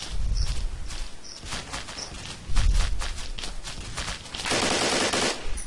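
Gunfire in the video game Blockade 3D, with repeated automatic bursts and single shots, loud and close, plus a sustained rattling volley near the end.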